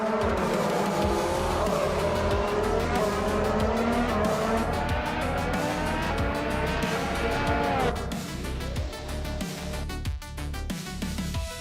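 A race car roars through a victory lap in a racing video game, its engine note rising and falling in sweeping pitch changes over several seconds.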